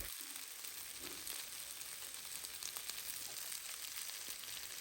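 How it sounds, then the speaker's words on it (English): Goat meat and vegetables stir-frying in a pan give a steady, close sizzle that holds evenly throughout, with no talking. "Give it a quick stir fry with all the vegetables"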